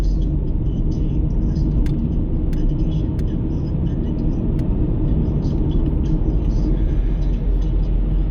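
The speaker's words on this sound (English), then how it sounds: "All this traffic coming the other way" Car interior on a drive from Hexham to Warwick Bridge near Carlisle, a steady loud road rumble and engine drone throughout, with a few faint ticks on top as oncoming traffic passes.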